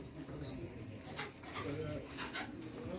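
Birds call repeatedly in a large bird store stocked with parrots, conures and cockatoos, with short cooing and squawking bursts over a busy background while people talk nearby.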